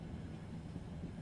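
A train rounding a snowy mountain gives off a steady low rumble, a continuous even roar of rolling wheels and carriages, close and unbroken for a moment.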